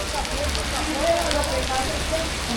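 Heavy rain pours steadily in Bogotá, a dense continuous hiss with scattered drops striking a surface, close and loud with no pauses.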